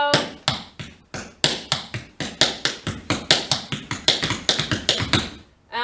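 Crisp tap dance steps, toe and heel taps in a steady rhythmic series of sharp clicks, close and loud, with no talking.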